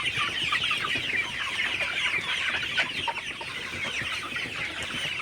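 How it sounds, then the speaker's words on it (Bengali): A flock of Sonali hybrid chickens clucks and chatters continuously while drinking water in the morning, many birds at once, steady and close with no talking. "সকালবেলা আমি পানি দিয়ে দিলাম মুরগিগুলো পানি খেতেছে"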